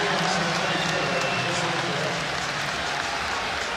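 A basketball arena crowd roars and jeers steadily as a player fouls out, a dense, loud wash of voices and noise holding for several seconds without a break.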